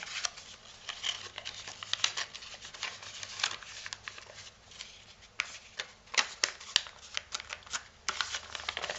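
A sheet of paper is creased and pleated into a triangular prism, giving a run of crisp crackles and sharp rustling snaps in irregular bursts, close to the microphone with no voices.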